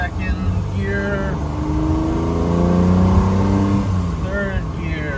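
A 1968 Ferrari 330 GTC accelerates through its gears, its engine rising in pitch, dropping at shifts and climbing again, heard from inside the car with someone talking over it.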